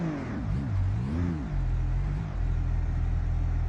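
A loud, raw BMW engine with its exhaust removed in BeamNG.drive revs up and down a few times, then settles into a steady droning idle.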